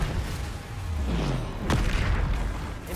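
Expelliarmus spell cast in Hogwarts Legacy, a single loud magical blast with a low rumbling boom and a sharp whooshing sweep partway through, set against a dense, noisy game backdrop.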